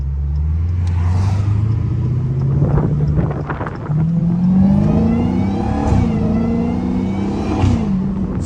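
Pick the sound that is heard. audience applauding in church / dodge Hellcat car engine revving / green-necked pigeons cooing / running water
dodge Hellcat car engine revving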